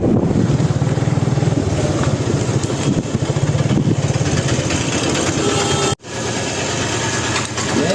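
A motorcycle engine runs steadily and close on a trip to go fishing, its throbbing drone continuous for about six seconds before it abruptly cuts out and a quieter rumble continues.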